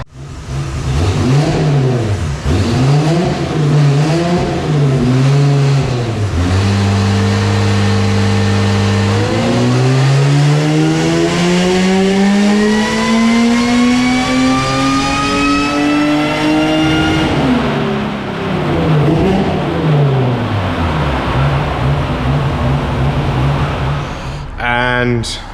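A supercharged car engine fitted with a 4150-style EFI throttle body revs repeatedly, loud and close, rising and falling in pitch through long sustained pulls, with a deep idle between revs and a voice talking over it.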